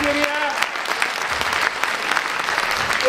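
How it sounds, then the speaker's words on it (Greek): Audience applause for someone speaker at a Greek public talk on violence and addiction to electronic media, a dense sustained clapping from a roomful of people, fairly close, with a voice speaking over it near the start. "Ένα χειροκρότημα στη κυρία!"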